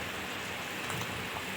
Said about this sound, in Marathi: आता चांगली आमटी उकळी फुटत आहे